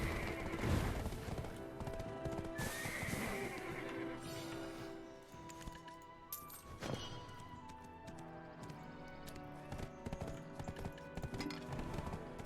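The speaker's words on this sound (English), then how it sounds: "How did I manage to like get my horse all the way over there?" Horse hooves clip-clop in Black Desert Online, a steady galloping rhythm running under layered game music and effects, with a brief sharp burst partway through.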